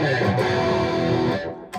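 A sustained, heavily distorted electric guitar chord through a Super Distortion bridge pickup rings out loudly, then is cut short with a brief scrape at the end.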